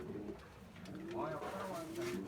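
Dönek pigeons coo softly in a backyard coop, with low, rolling calls close by that build slightly toward the end, over a quiet background.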